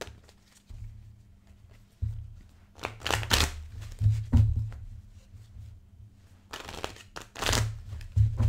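Tarot cards being shuffled by hand produce bursts of dry riffling and papery flutter, in two main clusters with brief pauses between them, close and fairly soft over a low background hum.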